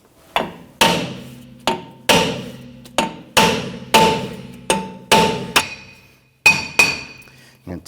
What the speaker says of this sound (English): tap around the drum itself to go ahead and loosen everything up